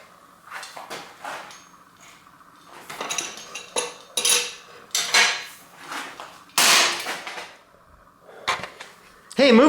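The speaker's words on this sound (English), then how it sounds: "I'll use a bigger wrench with bigger leverage here." Clanking metal from a large wrench being turned on a homemade seatpost puller fixed to a stuck bicycle seatpost, with irregular close knocks, scrapes and ratchety clicks in bursts, loudest near the end.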